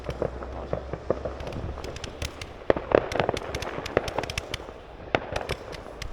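New Year's fireworks burst outside, a run of sharp cracks and bangs with crackling between them, some near and loud, others more distant, going on steadily with no speech.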